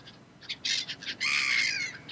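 Seagulls screaming in the survival game Stranded Deep: several harsh, squawking cries, short bursts at first, then one longer drawn-out scream, fairly close and loud.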